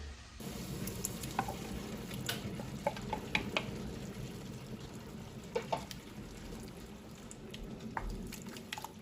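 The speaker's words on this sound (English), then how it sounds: "we're going to add our chopped tomatoes straight into this pan" Chopped tomatoes sizzle and fry steadily in a pan, with scattered pops and crackles and occasional stirring scrapes.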